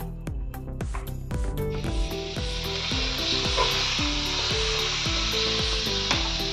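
Butter heats in a hot kadai before parathas stuffed with egg and paneer are fried. A soft, continuous sizzle starts partway through and carries on steadily beneath plucked background music.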